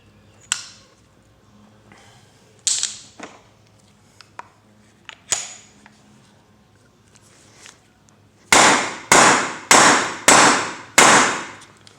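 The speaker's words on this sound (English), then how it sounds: "I'm just gonna give it a couple more whacks." A hammer strikes metal while seating a differential carrier bearing on a Chevy Tahoe: a few scattered single whacks, then five loud, evenly spaced blows in quick succession near the end.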